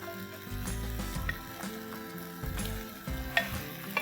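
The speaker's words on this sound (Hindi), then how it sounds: "अब इसमें डालेंगे हम चिकन कीमा।" About 500 grams of chicken keema fries in a chunky masala and gets stirred, a close, steady sizzle broken by scraping spoon strokes against the pan.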